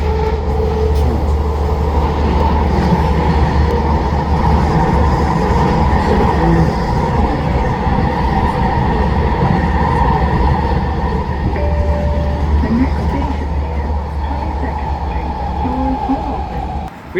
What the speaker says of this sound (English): Maybe the train just crossed or coming soon.